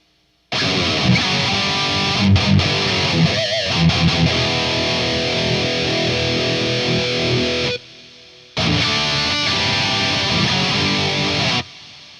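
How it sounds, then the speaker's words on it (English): Electric guitar through a JP amp's crunch channel with a Strymon Big Sky reverb pedal, crunchy overdriven tone soaked in reverb, strummed chords ringing out, stopping briefly, then returning and ending abruptly. "let's go ahead and dial in an awesome reverb setting for my crunch channel"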